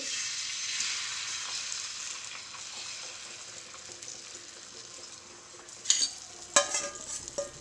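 Egg batter sizzles steadily on a hot oiled tava, a dense bright crackle throughout, with a few sharper pops and spatters near the end.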